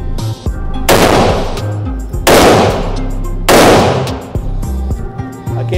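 Three sharp, loud shots from a small-calibre gun ring out at roughly one-second intervals, each with a broad crack and a decaying tail, while faint handling noise fills the gaps between them.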